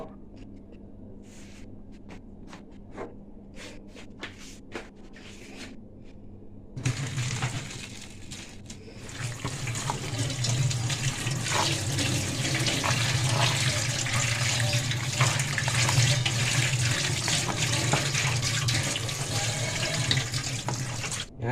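Boiled noodles drained under a strong, steady rush of running water, loud and continuous after a quieter start of scattered clinks and handling noises.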